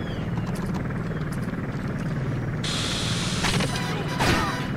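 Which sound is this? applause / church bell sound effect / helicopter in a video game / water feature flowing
helicopter in a video game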